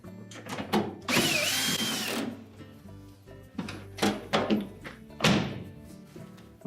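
A power drill runs in a long burst, driving screws into the frame of a Whirlpool washer during an inlet valve replacement, with a few shorter bursts and clunks of parts following nearby.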